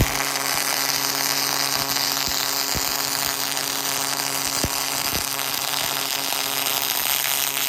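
An arc welder lays a third pass on a weld joint, giving a steady, even crackle and hiss that runs continuously throughout at close range, with a faint electrical hum beneath.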